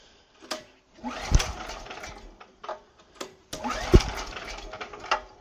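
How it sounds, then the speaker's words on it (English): A Hyundai four-stroke engine being pull-started: several separate bursts of rapid mechanical clatter from the recoil pull, each with a sharp thump, nearby and loud with short pauses between attempts. "I'm going to try and pull start it"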